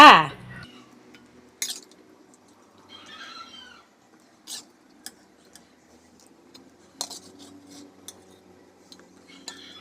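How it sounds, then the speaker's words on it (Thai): Boiled chicken hip pieces are lifted out of a cooking pot with a utensil while clear radish soup is being made. Scattered light clinks and scrapes are heard, mostly quiet, after a brief opening voice. "นำไก่นะคะที่เราต้มไว้นะคะ มาตักพักไว้ก่อนจ้า"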